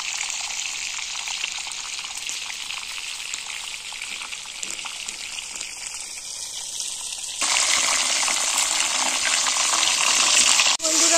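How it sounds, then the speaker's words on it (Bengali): Lightly frying stuffed pointed gourd (potol) in oil gives a steady crackling sizzle that grows louder and brighter partway through, with no voices. "পটলটা হালকা করে ভেজে নিয়েছি।"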